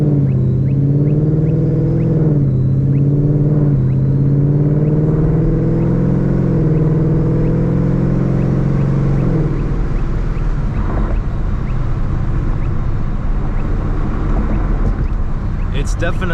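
Ford pickup fitted with a 10R80 automatic transmission, accelerating hard in sport mode, with a steady loud engine drone, audible firm gear shifts as the pitch drops, and someone talking over the engine.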